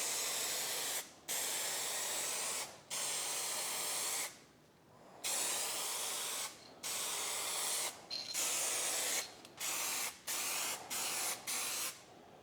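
Spray can painting coats over a rust repair on a car: long, steady bursts of loud, close hiss, broken by short pauses, then a run of quicker, shorter sprays toward the end.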